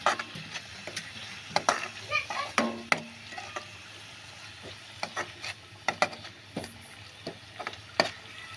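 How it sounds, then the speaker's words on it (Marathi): Spiced kaleji (goat liver) being stirred as it fries in a pan: repeated sharp spatula scrapes and taps over a quiet, steady sizzle, close and with no talk. "आता आपण हे चांगलं हलवून घेऊया।"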